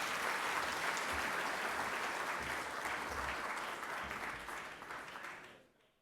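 Sustained applause from guests at a gala dinner welcoming a professor to the podium, a broad even roar of clapping that carries on for several seconds before fading to quiet at the end.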